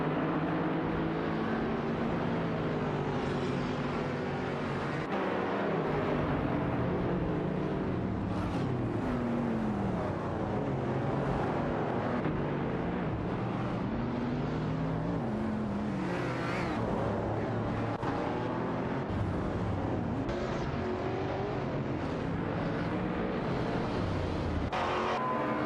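Race cars in an AI-driven racing video game, engines droning and revving continuously as several cars jockey for position, with shifting pitch sweeps as they pass, steady and loud throughout with no talk.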